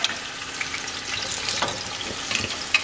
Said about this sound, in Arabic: راح نحمس اللحم بس شوية وبعدين نكمل طبخه.